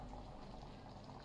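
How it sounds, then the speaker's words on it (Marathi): Pahadi rajma masala bubbling at a steady boil in a steel kadai, a dense, continuous simmering wash with no breaks, faint and close. "ह्याला आता चांगली एक उकळ काढायची आहे"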